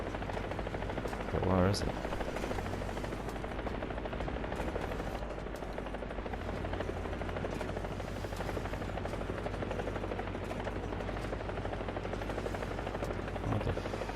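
A low-flying helicopter in the video game War Thunder drones steadily throughout, with a brief sharp burst near the start; a voice speaks briefly over it.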